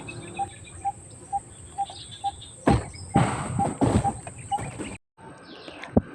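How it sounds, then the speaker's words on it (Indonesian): Steady, regular cricket chirps pulse through an outdoor vegetable garden ambience, joined by bursts of rustling and a few bird calls, with a brief dropout near the end. "Suara kicauan burung, suara jangkrik."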